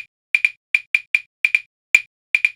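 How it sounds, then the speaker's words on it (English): Short, sharp metronome-app clicks playing a 4-against-5 polyrhythm, with both metronomes using the same click sound. The clicks fall in irregular pairs and singles, crisp and close, with silence between them and no talking. "And then we've got 4 in metronome 1 and 5 in metronome 2."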